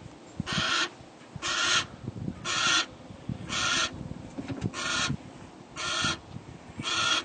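Falconry birds call from inside a trailer on a paved road, a series of about seven evenly spaced, rasping screech calls repeating roughly once a second over a low rumbling road noise.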